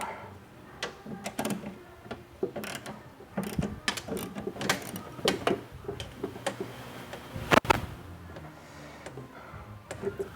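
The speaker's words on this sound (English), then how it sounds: "we're going to take our 10mm wrench and we're going to unscrew that bolt" A 10mm wrench loosening a bolt inside the door of a MkIV Jetta, Golf or New Beetle, heard as a close series of ratcheting clicks and metallic taps in an uneven rhythm, with one sharper clank. No one speaks.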